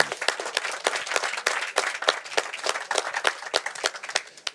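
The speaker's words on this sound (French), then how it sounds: "Vos applaudissements, s'il vous plaît." An audience applauds at a French Tech Day 2021 pitch competition, a steady run of sharp, distinct claps from a modest crowd, fairly close and continuous without talk.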